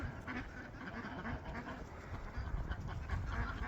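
Ducks quack repeatedly at a distance, faint, mixed with light outdoor background noise.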